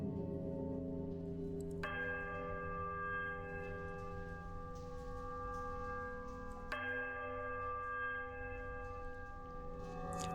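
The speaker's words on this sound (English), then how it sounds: "a sudden dissonant toll sounds from the bells" Deep bells toll within the video game Pillars of Eternity, two strikes several seconds apart, each ringing out with long sustained metallic overtones that hang and slowly fade, fairly quiet with no talk.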